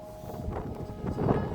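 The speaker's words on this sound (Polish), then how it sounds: "Jest silny wiatr, który idealnie chłodzi." Strong wind gusts across a Carpathian mountain trail near a hut in berry season, buffeting the microphone with a low, roaring rush that swells toward the end.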